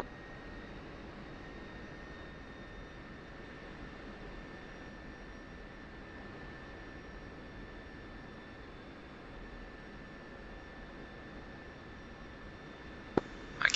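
An F-16 taxiing in the DCS World flight simulator gives a steady, even engine hum and hiss with a thin constant whine, running unbroken until a few brief clicks at the end.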